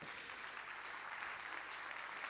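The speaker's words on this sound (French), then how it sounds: "sous vos applaudissements" An audience at a tourism awards evening applauds, a steady, even patter of clapping from a large room, quite faint and distant, with no voices over it.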